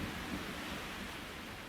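Torrential rain with rumbling thunder from an audio drama: a dense, constant hiss of downpour over low rolling rumbles, steady and enveloping, with no voices.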